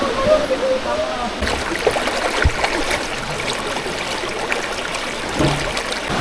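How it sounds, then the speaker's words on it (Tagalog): Continuous rushing water from Taytay Falls in Majayjay, Laguna fills the background, with a voice briefly heard over it. "Naririnig ko na ang lagaslas ng talon dito."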